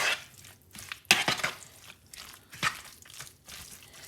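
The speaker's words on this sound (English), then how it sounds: "you're going to take this and you're going to mix it up." Ingredients are stirred and mixed in a bowl before cooking in a skillet, heard as close scraping and clinking strokes in an uneven rhythm, with one sharper knock just past a second.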